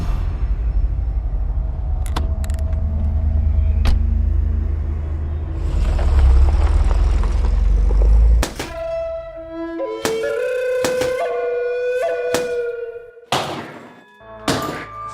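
Car doors thunk shut with heavy thuds as a man is shoved into a vehicle, over a low engine rumble, followed by a few sharp knocks and clunks.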